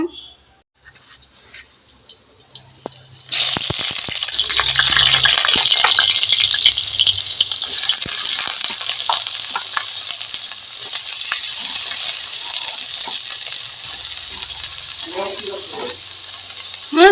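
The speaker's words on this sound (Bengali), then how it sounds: "এখন আমি কড়াই বসিয়ে দিয়েছি, তেলও দিয়ে দিয়েছি, কড়াই হলো গরম হয়ে গিয়েছে, তেলটাও গরম হয়ে গিয়েছে। এখন আমি সয়াবিনটা ভেজে নিব।" Soya chunks hit hot oil in a heated wok and break into a loud, steady sizzle that carries on without pause, after a few light clatters at the start.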